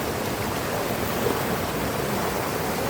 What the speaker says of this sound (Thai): แวะพักน้ำตกแป๊บนึงค่ะ